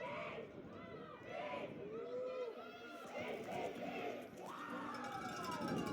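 Spectators at a Canada Games women's bronze final between Nova Scotia and Alberta, with the Alberta crowd making steady noise in a sports arena: a continuous roar of mixed voices and shouts with a commentator speaking over it throughout.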